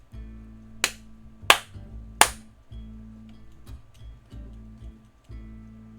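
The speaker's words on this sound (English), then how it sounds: "If you can hear me, clap 3 times." Three hand claps in an even, unhurried rhythm, close and crisp, over a faint low background hum with soft bumps afterward.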